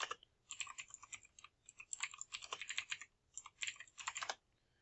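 Rapid bursts of clicking keystrokes on a computer keyboard, typed in uneven runs with short pauses between them, close and fairly quiet, with no voices over it.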